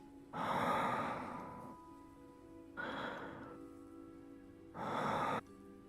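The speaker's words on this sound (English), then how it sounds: "the weirdest thing about the new sleep function is listening to them breathe" A character's sleep breathing in the Love and Deepspace video game, three slow, soft breaths spaced a couple of seconds apart, each a long airy exhale, close and quiet, with faint background tones.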